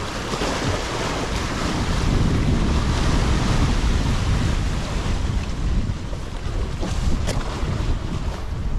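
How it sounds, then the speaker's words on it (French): Strong wind buffets the microphone at sea during a jig-fishing outing, a continuous loud roar with rushing water and gusts throughout. "il y a un petit peu de vent"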